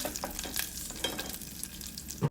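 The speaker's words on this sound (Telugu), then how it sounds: "ఈ పోపు దోరగా వేగిన తర్వాత ఇందాక మనం కచ్చపచ్చ దంచుకున్న వెల్లుల్లిపాయ జీలకర్ర మిశ్రమాన్ని ఇందులో వేసి ఒకసారి వేయించుకోవాలి" Crushed garlic and cumin tempering frying in hot oil in a pan for tomato rasam, a steady close sizzle with scattered crackles and brief stirring scrapes, no voices.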